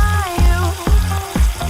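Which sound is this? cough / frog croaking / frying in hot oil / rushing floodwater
frying in hot oil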